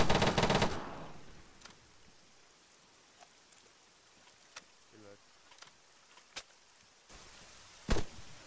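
Incoming gunfire during a bog-clearing firefight: a loud burst opens, then scattered sharp cracks follow at irregular intervals, some distant and faint, with a strong close shot near the end.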